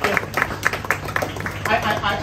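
Guests clap together for a couple celebrating their thirtieth wedding anniversary, a steady patter of applause from a small crowd indoors, fairly close and lively, with some murmuring voices under it.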